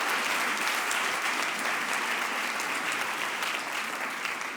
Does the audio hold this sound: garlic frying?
no